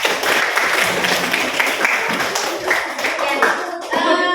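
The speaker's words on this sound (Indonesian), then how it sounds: "Ya, tepuk tangan untuk kita semuanya." Schoolchildren clapping together in a classroom lesson, a brisk burst of overlapping hand claps running throughout, with voices mixed in and a few sharper claps near the end.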